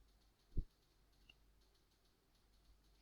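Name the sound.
computer mouse click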